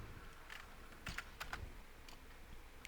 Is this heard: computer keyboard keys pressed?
yes